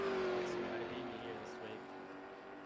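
A late model race car laps South Boston in a racing game: a steady engine drone hums at moderate distance and eases off slightly toward the end, with a commentator talking over it.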